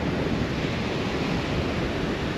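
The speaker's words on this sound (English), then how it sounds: "You can tell it's windy because we don't normally have waves up here" Wind-driven surf at Cowley Beach in Far North Queensland, a continuous, loud broadband rush of waves mixed with gusting wind buffeting the microphone, with no voices.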